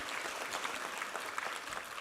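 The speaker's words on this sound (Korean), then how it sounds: "우리 하나님께 감사와 영광의 박수 올려드리겠습니다" Church congregation applauding during a Korean worship service, a steady, dense wash of clapping that fills the whole short stretch at an even, moderate loudness with no voices over it.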